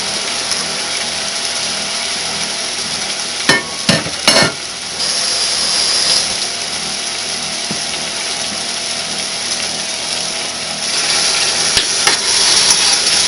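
A 3-pound pork roast browning in a hot pan: a constant loud sizzling hiss close to the microphone, with a few clattering knocks near the start as the meat is set in, and no talk.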